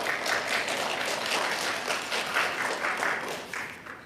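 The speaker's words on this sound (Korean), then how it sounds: "우리 한번 박수로 환영하겠습니다." Congregation at a Sunday church service applauding to welcome a family back after three years, steady moderate clapping from many hands in a room, fading slightly at the end.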